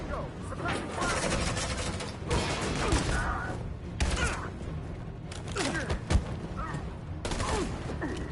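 Dense gunfire bursts and impacts rattle through a battle in the video game Detroit: Become Human, layered under shouting voices and game sound effects over steady background noise.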